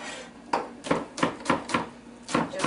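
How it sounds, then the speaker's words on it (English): A knife chops scallions on a chopping board in a series of sharp, close knocks, about eight in a loose, uneven rhythm. "Just give it a little bit of a chop."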